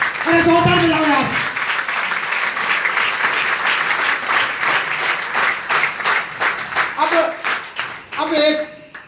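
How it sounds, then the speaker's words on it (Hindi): Loud, sustained applause from an audience at a business training event, dense clapping rolling on for several seconds before thinning into scattered claps, as voices call out at the start and end. "एक बार जोरदार ताली चाहिए"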